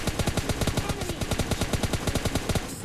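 Rapid automatic gunfire in the battle royale game PUBG Lite during a duo match, a loud, continuous burst of evenly spaced shots lasting nearly three seconds without pause.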